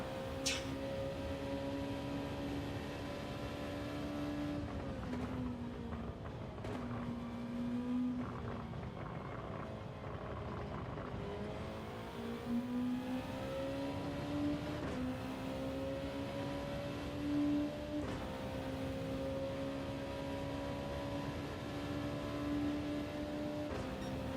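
A race car in Gran Turismo 7 drones steadily at close range with no talk over it. The engine pitch steps down and back up several times, as if the car is downshifting and then pulling again through corners.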